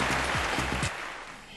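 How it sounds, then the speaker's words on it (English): Audience applause welcoming the President and CEO of GE Healthcare India onto the stage at a healthcare summit, a dense clapping wash that holds for under a second before dropping to a lower, thinner tail. "Big round of applause for Ms."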